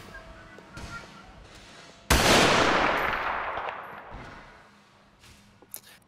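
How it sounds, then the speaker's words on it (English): Automatic gunfire echoes through a road tunnel in a police shootout video game, a sudden loud burst with a long reverberant tail that slowly fades over several seconds. "automatic fire inside the tunnel"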